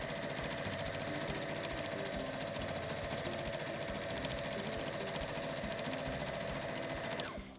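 A sewing machine stitches a straight seam in one continuous close, steady whirring run with a fast mechanical rattle, stopping abruptly just before the end, with no talking.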